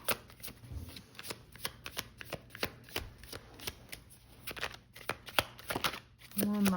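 Tarot cards shuffled and drawn during a reading, a dense run of crisp riffling snaps and slaps, close and fairly loud, with a brief voice near the end.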